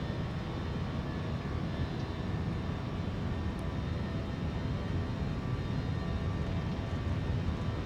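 Airbus A321 engines in the Fenix flight simulator spool up into a loud, steady, broadband roar that holds constant throughout, with no talking over it.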